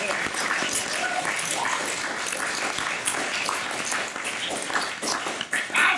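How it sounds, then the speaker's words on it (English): Applause from a small audience after a poetry reading, a steady busy patter of clapping at fairly close range that holds throughout, with a few louder bursts near the end. "You can clap now"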